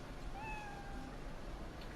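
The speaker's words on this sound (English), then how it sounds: "Oh, look at the little kitty." A small cat in the video game Cyberpunk 2077 gives one clear, rising meow over a low, steady ambient hum, with no voices.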